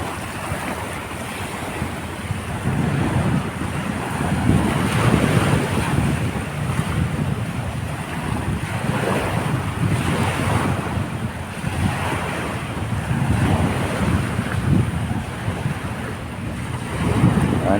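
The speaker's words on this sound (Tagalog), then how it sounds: "Talagang maririnig mo ang lagaslas ng alon" Waves wash continuously onto the shore at Manila Bay's dolomite beach, a loud, rolling surf swelling and easing under steady wind buffeting the microphone.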